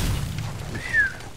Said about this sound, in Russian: Какой лажовый выстрел,